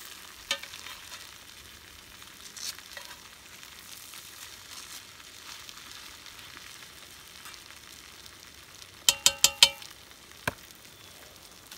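A jackalope scramble frying in a pan, a faint steady sizzle broken by a few sharp spatula taps and a quick cluster of clanks as it gets flipped, with no talking.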